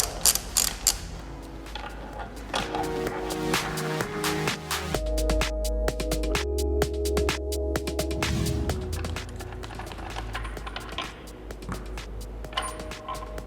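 A size 14 socket wrench loosens the six nuts on a Hayward Super II pool pump, its ratchet clicking in rapid, continuous runs up close, with metallic creaks and low mechanical hum mixed in.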